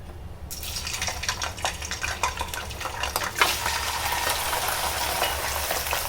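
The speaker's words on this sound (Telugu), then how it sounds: "ఇప్పుడు ఆయిల్ హీట్ అయింది కదా ఏదైతే మనం ఇంక చికెన్ ఇంకించుకున్నామో అది వేసుకుందాం" Chicken pieces for a chicken pickle drop into hot oil in a large pan and fry loudly, the sizzle swelling into a steady, dense crackle that fills the whole stretch, close and continuous.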